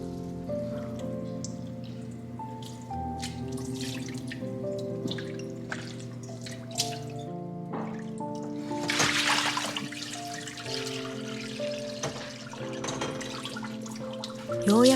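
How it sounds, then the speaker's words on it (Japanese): Sock yarn being rinsed lightly in lukewarm water before going into an orange-peel plant dye bath, soft drips and small splashes with a trickle, close and moderately quiet, with occasional clinks. "毛糸はぬるま湯で軽く洗ってから染液に加えます"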